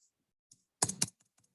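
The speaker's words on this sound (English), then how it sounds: "Click and delete on my keyboard." A quick cluster of computer keyboard keystrokes, a couple of soft taps followed by two louder close clicks and then a few faint trailing presses, heard alone in a quiet room.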